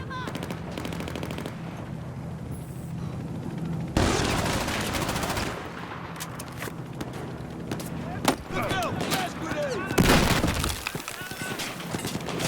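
Rapid automatic gunfire and bursts of shooting in the shooter game Battlefield 4, loud and nearly continuous with sharp cracks and breaking debris, mixed with voices.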